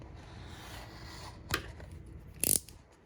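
Scissors snip through a carbon fiber sheet with quiet, close-up cutting, including a short crisp snip and then a louder, sharper slicing burst near the end, set against faint background hiss.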